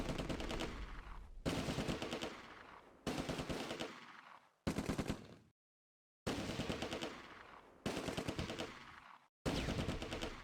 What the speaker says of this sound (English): Great teamwork by the light tanks, using their rapid rate of fire to overwhelm the target.